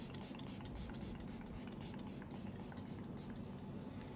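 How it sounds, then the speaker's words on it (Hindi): Rose water facial mist is sprayed from a bottle in a skincare routine, a steady soft hiss close to the ear lasting the whole stretch, alone without speech. "फिलहाल मैं इसे फटाफट स्प्रे करती हूँ."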